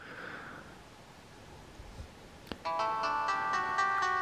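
A BlackBerry phone plays its startup jingle after powering on with the charger connected, a sudden click followed by a bright, layered electronic chime that holds steady to the end, clear and close over faint room hiss.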